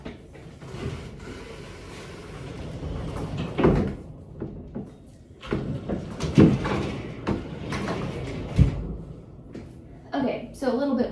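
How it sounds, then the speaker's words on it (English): A fold-down bed is pulled down with repeated creaks, knocks and sliding thumps at moderate loudness, while a person talks throughout. "let me show you how easy it is or difficult to pull this bed down"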